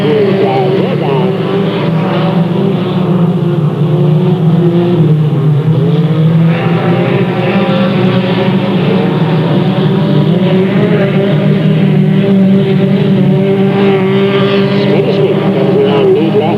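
Race cars thunder away on the green flag in a Delta Speedway heat race, a loud, sustained engine roar that stays dense throughout. An announcer talks over it.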